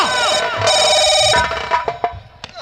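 A telephone rings with a bright, warbling electronic tone for over a second, then gives way to sharp knocks and scuffles with a voice briefly heard.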